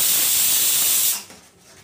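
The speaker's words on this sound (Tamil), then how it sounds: "இந்த குக்கர் ஒன்று விசில் கொஞ்சம் கம்மி பண்ணிடலாம்." A pressure cooker whistle releases a loud, sharp hiss of steam while pav bhaji cooks, then cuts off abruptly, leaving a faint quiet kitchen.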